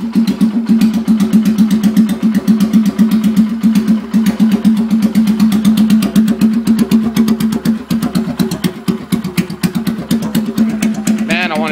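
A 2011 Polaris Sportsman 500 ATV engine running unchoked in a cool garage, a loud, close, steady thumping idle with a fast regular beat throughout.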